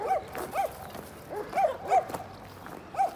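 Dogs at an animal shelter bark repeatedly in short, yelping bursts; among them is a Kangal missing a hind leg. The barks come in irregular clusters at moderate distance, with no talk.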